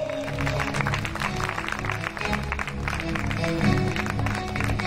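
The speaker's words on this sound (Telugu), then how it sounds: "కొట్టు చప్పట్లు." A sermon audience claps their hands in sustained, dense applause, a steady wash of many hands continuing throughout, with tonal music or voice faintly underneath.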